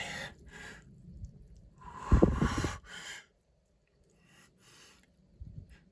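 Heavy, ragged breathing after a breath-hold dive, with a loud burst of gasping, snorting breaths in the middle, then quieter breaths and near silence.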